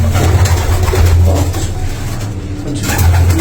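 Pigeons coo loudly and continuously at a pigeon keeper's loft in Karachi, a dense low murmur of many birds close by, with a faint engine hum beneath and no speech.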